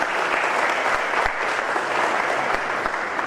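An audience at a Nizamabad cancer hospital applauds its staff, a dense, continuous round of clapping heard from amid the crowd and holding steady for the whole stretch.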